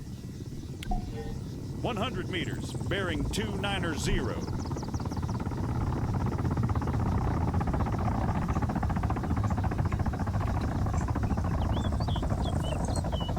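A military helicopter in the video game Arma 3 thrums in a steady, continuous rotor drone that grows fuller over time. Several people talk over it.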